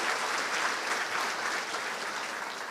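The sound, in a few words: audience applause for new MBA students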